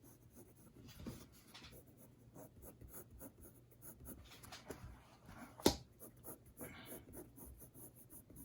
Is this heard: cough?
no